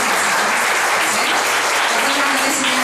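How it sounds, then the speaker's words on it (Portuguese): An audience at a public hearing in a municipal council chamber claps loudly and steadily throughout, a dense wash of applause without pauses. "eu queria agradecer ao Fabiano, pedir uma salva de palmas para ele"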